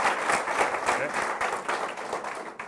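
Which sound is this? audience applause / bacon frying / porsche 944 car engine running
audience applause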